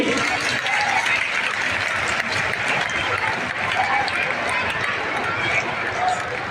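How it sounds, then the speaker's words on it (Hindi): Crowd at a Bhairav Ji temple renovation festival in Khairmal, welcoming the Chief Minister, applauds in a dense, steady wash that fills the whole stretch, with voices mixed in. "तालियां बजनी चाहिए इसके लिए।"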